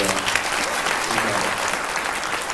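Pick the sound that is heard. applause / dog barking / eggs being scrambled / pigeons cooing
applause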